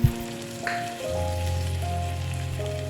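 Sauce sizzles and crackles steadily in a hot wok for a home-style spicy chicken stir-fry, a brief splash at the start as dried-shrimp soaking water goes in, then a continuous close frying hiss with a low hum.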